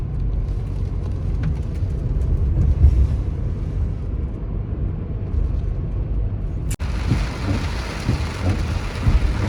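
Heavy monsoon rain pours at Ambur Musi Dam, just downhill of Athirapally Falls in Kerala. A dense, steady roar of downpour fills the clip, with a sharp crack near the end before the hiss turns brighter and closer.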